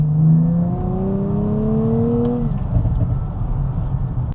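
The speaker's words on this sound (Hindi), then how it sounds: "गाड़ी के अंदर तो सुन रहे हैं क्रैकल्स," A Nissan Z Nismo in Sports Plus mode revs hard, its engine note climbing loudly before dropping off into a rough, popping burble. Heard close up, with no speech over it.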